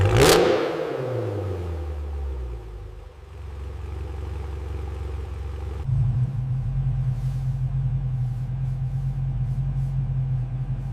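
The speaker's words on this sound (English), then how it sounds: "And finally, the exhaust note." A 2026 Dodge Durango SRT engine starts with a sharp rev, then settles into a deep, rumbling exhaust note that climbs again and holds steady and loud, with no talking.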